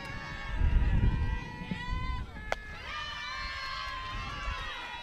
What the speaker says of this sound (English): Scalia's teammates cheering her on.